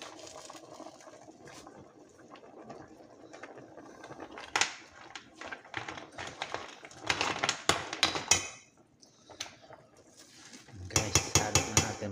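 Malunggay leaves being stirred in a metal pot, a run of scraping and clattering utensil-on-pot knocks that comes in irregular bursts, loudest in short clusters near the end, with no talking.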